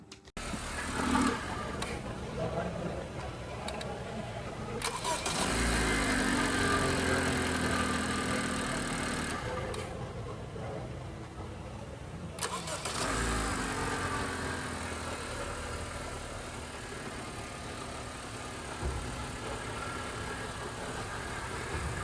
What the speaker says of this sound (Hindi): अब चलते हैं इंजन के ऊपर, कुछ इंजन की आवाज़ भी आपको सुना देते हैं।